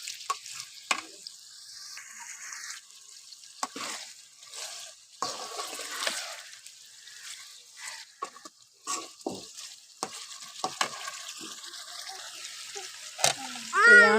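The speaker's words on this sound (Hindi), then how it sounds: "इसको ना अभी फ्राई करूँगी अच्छी तरह से ताकि इसका कलर जो है वो ब्राउन सा हो जाए" Chicken browning in a pan for biryani, with a soft continuous sizzle under scattered scraping stir sounds and a few brief clinks, fairly quiet and close, with a short burst of voice near the end.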